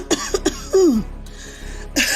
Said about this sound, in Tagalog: Pare, mukhang matindi ang ubo